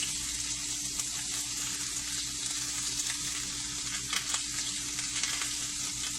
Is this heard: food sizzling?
yes